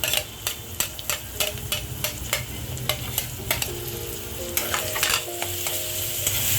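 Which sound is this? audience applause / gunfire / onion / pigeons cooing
onion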